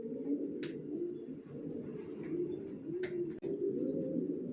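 An adult pair of racer pigeons coo with low, rolling, repeated calls at close range. A few brief clicks and shuffles sound over a steady background.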